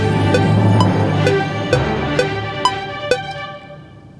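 Draft fanfare for a logo intro: sustained brassy harmonic chords with sharp accented hits every half second or so, loud and alone, fading out over the last second.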